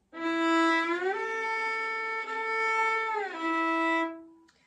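A violin plays fast position shifts, sustaining a single bowed note that slides up to a higher pitch, holds, then glides back down before fading out.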